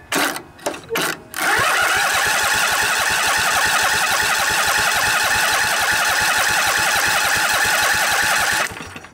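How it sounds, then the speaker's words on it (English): A Briggs and Stratton OHV Intek twin lawn tractor engine turns over on the starter, a fast steady mechanical chugging that runs loud and continuous for about seven seconds after a few brief clunks, then cuts off. "You'll get to see the fuel pumping into the fuel filter here once I start turning the engine over."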